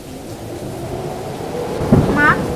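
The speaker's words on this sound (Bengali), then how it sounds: "বাইরে তো ঝড় বৃষ্টি থামছে না" Heavy rain from a raging storm pours down steadily, its dense wash carrying a low rolling thunder rumble that swells slightly near the end, where a brief voice-like tone surfaces.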